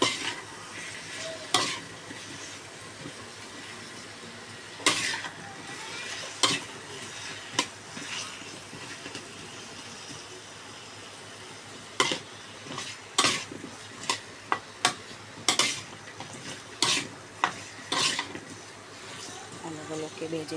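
Potatoes frying in a pan and being stirred thoroughly for a beef curry, with repeated sharp scrapes and clinks of a spatula against the pan over a soft background sizzle; a voice is heard at times.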